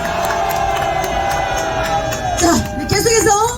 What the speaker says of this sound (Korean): 여러분들 박수 한 번 더 크게 보내주시면 고맙겠습니다